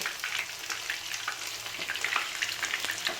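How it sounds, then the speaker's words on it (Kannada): Pieces of fish fry in pure coconut oil, giving a moderate, continuous crackling sizzle full of small irregular pops and spits, close by, with no voices over it. "ಪ್ಯೂರ್ ತೆಂಗಿನ ಎಣ್ಣೆ ಯೂಸ್ ಮಾಡ್ತಿದ್ದೇನೆ ಫ್ರೈಗೆ"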